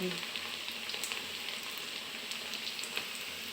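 Potatoes and onions frying in a pan, a soft, even sizzle with faint crackles continuing steadily at low volume.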